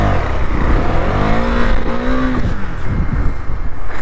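A KTM Duke 390 motorcycle engine revs hard and continuously during a wheelie, loud and close, its pitch rising and dipping through the throttle blips, with no speech.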